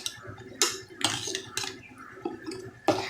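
A spoon stirring dill greens in a pan, with several distinct scraping clinks against the metal spread irregularly over a few seconds, close and moderately quiet.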